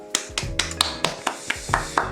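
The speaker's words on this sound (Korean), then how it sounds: "박수." A round of hand clapping greets a high school senior's self-introduction, with about nine crisp, evenly spaced claps close by over a faint tonal background.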